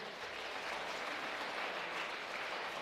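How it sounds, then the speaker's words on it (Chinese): A church congregation claps in welcome for a district elder, a steady, even wave of applause filling the room. "以赛亚牧区区长满族长老来拍手欢迎一下。"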